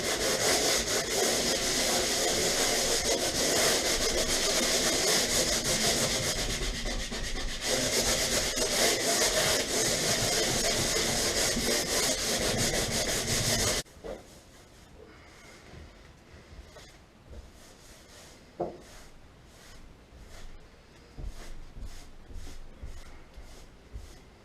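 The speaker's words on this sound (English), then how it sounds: "I just sanded everything and just cleaned the surface" Sandpaper rubbed over a wall before wallpapering, a loud, steady, continuous scraping for about fourteen seconds that stops abruptly, leaving faint scattered handling noises.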